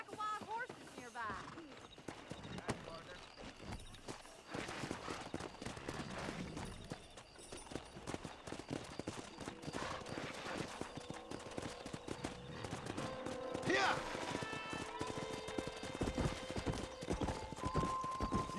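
Horse hooves clip-clop at a steady run in the Red Dead Redemption video game, rhythmic thuds under game music and a whinny, with people talking over it.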